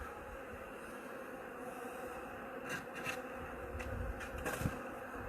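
Honeybees crowd the frames of a hive open for inspection, a low, continuous buzzing hum close by with a few louder passing bursts and knocks toward the end.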